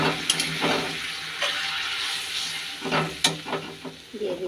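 Hot water added a little at a time to fried spice paste with garlic in a pan, giving a loud steady sizzle broken by splashy pours and stirring scrapes, with a faint voice in the background.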